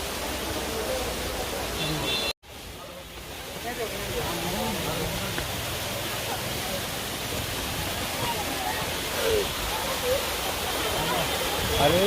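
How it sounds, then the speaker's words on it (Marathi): A monsoon-fed waterfall on a road trip to Karnataka roars as a steady broad wash of rushing water, continuous and fairly close, with a brief cut early on and voices faintly audible underneath. "इथून तुम्ही बघू शकता हा धबधबा आहे"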